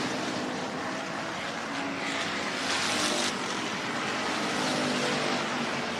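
Race cars roar past at Hancock County Speedway during a Sport Compact and Hobby Stock race, a dense, loud engine drone with a swell of passing noise midway and no voices.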